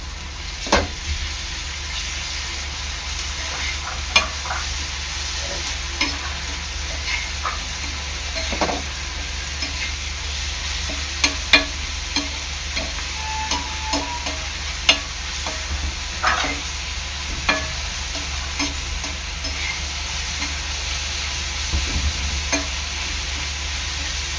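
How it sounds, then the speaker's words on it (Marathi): A spoon stirs a paste of ginger, garlic, green chili and coriander in a hot pan, with a constant soft sizzle broken by scattered scraping clicks and taps of the utensil, close and without speech. "मिरची कोथिंबीरची पेस्ट थोडी जाडसरच ठेवायची पेस्ट चांगलं मिक्स करून घ्यायचं आहे"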